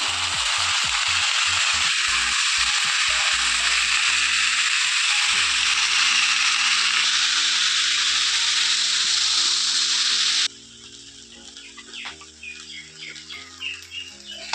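Boiled chickpeas go into a pan of sizzling spices seasoned with salt and dry red chilli powder for ghugni. A loud, steady frying hiss runs throughout, then drops sharply and quiets, with low background music underneath.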